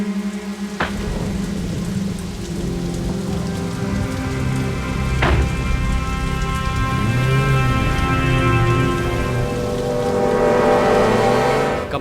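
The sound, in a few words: rain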